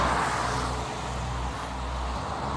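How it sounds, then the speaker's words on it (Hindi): Traffic on a roadside while hitchhiking from Latvia toward Estonia, a continuous wash of cars passing at moderate distance, with a few low swells as vehicles go by. "बहुत सारी गाड़ियाँ आ रही है, जा रही है, देखिए।"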